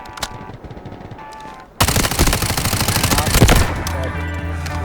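Sustained automatic gunfire in the tactical shooter Delta Force: Hawk Ops, a dense burst of rapid shots starting abruptly and continuing loud and close, preceded by quieter game ambience.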